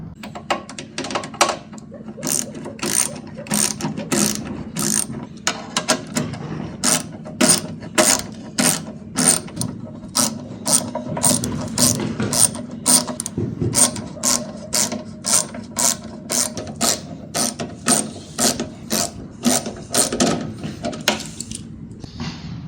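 A ratchet socket wrench clicks in fast, steady runs while tightening 10 millimeter bolts on a Harbor Freight 2hp dust collector, close and loud, with brief pauses between strokes and the low rumble of handling.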